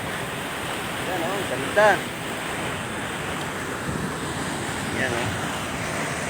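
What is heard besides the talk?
strong water current and waves at a beach, Mindoro Oriental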